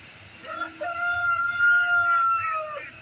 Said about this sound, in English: There's the old rooster crowing.